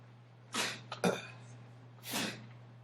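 Two sharp, breathy sneezes burst out during a math lecture in a classroom, with a softer snort between them over a low steady hum.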